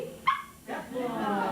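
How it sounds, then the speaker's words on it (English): A dog barks a few times in response to being urged to speak, short sharp yips close by, with a person talking over and between the barks. "I knew he was going to bark if I provoked it, or do it with a toy."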